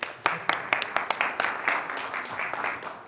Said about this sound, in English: Round of applause for our winner.